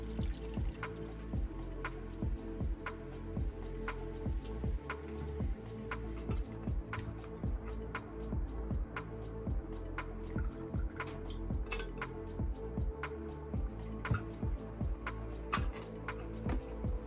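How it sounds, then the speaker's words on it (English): Water runs and patters over a circuit board while gold is stripped from it after solder mask removal, a steady close splashing with quick drips and trickles that goes on without pause. "We're going to try to use the pressure from the water to liberate any of the last particles."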